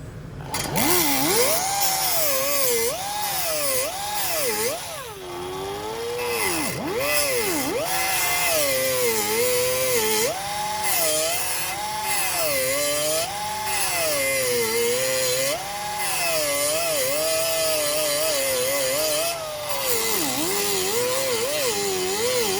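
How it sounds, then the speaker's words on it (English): Power tool grinding away metal on a lower control arm of a 1953-1979 Ford F100 front suspension, a loud continuous whine that rises and falls in pitch as the tool loads and frees, alone with no talk. "But I'm going to grind that out of there."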